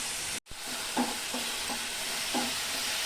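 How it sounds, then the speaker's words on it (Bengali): Cumin, coriander and chili powder being sautéed with a little water in a pan, giving a steady close hiss and sizzle with a few soft stirring scrapes and a brief cut near the start. "অল্প জল দিয়ে মশলাটা ভালো করে কষিয়ে নেব।"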